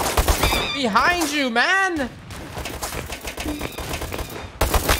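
Rapid AK rifle gunfire in the video game Apewar, bursts running beneath a voice at close range while another voice speaks over the shooting.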